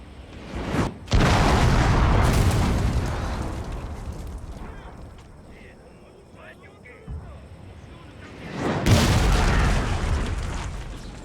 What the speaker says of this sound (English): parrot guns in their favor, and they're just going to bombard them until there's little left of the Nagaoka